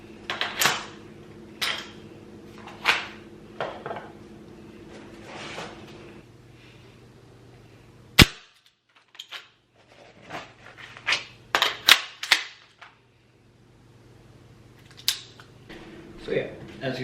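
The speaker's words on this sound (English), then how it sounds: "I grabbed the mag, put it in, then I went up and pushed the bolt release like that" A rifle being reloaded: the magazine is inserted and the bolt release is pushed. A few sharp metallic clicks and clacks ring out close by, spaced apart, with quieter handling noise around them and a low hum.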